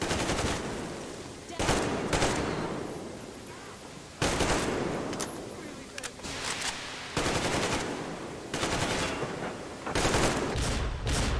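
Heavy automatic gunfire in Metro Exodus, loud close sustained bursts repeating across the whole stretch with brief pauses between volleys.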